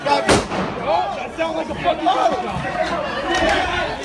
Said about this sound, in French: Des policiers armes au poing se trouvent de l'autre côté quand l'un d'entre eux tire.